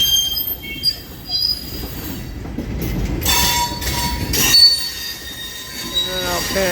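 A Florida East Coast Railway train grinds through a switch in St. Augustine, its wheels letting out a sustained high metallic squeal over a low rumble of rolling cars, loud and close.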